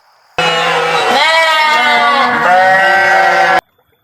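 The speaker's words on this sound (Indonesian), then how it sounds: "teman-teman pasti sudah tahu suaranya kambing itu seperti ini" A goat gives a single long, wavering bleat, loud for about three seconds, close and clear, then stops abruptly into silence.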